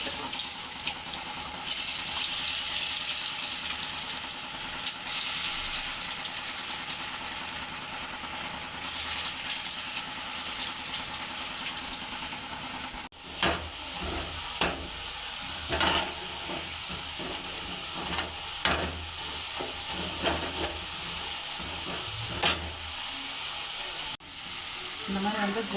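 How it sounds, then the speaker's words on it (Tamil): Potato sticks for french fries sizzle in hot oil with a bright, steady hiss that later thins into irregular crackling and a few sharp knocks from a utensil against the pan. "நம்ம ரெடி பண்ணி வச்ச உருளைக்கிழங்கு எல்லாத்தையும் வந்து ஃப்ரை பண்ணிக்கலாம்"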